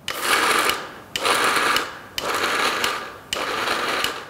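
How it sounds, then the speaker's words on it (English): Kitchen mixer grinder blending a warm spice mixture in four loud, steady whirring runs of about a second each, separated by short pauses. "Here, I'm just about grinding the warm thing up."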